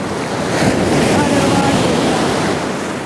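Sea waves wash continuously near a seaside Kalari training ground in a steady, loud broadband roar of surf mixed with wind buffeting, with no distinct breaks between swells.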